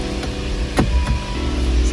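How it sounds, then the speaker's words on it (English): An Aston Martin Rapide's power windows whir steadily under a low hum from the car, with a few soft clicks and knocks along the way. "the windows work and they are there"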